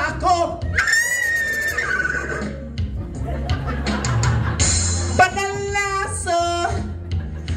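Close, loud horse neighs, one long whinny near the start and another shrill burst toward the end, with people talking over and between them.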